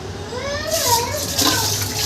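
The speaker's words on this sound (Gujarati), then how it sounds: "આ દાળ લીધી. હવે આને સારી રીતે વોશ કરવાનું છે." Soaked dal lentils being washed in water, splashing and swishing close by while a voice and an adult's speech carry over the water.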